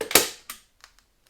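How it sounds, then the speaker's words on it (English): A staple gun fires into a thin board while a camper bathroom is being remodeled: one sharp, loud snap, then a second, quieter snap about a third of a second later, with faint clicks trailing off. "I'm going to use my stapler here, my staple gun."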